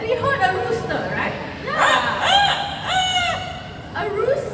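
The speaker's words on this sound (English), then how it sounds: "A rooster here in the park." Rooster crowing in a park during a bird show, several loud drawn-out crows and clucks in quick succession, close by, with a crowd murmuring and voices chattering underneath.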